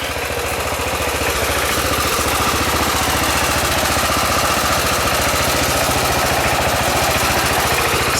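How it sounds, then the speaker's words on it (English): An old tractor engine runs steadily while firewood is being gathered, giving a loud, continuous chugging drone with a rapid knocking pulse that never lets up. "It's a nice little tractor."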